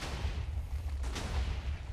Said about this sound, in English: So we just wait for the majority of the TNT to blow out of the way.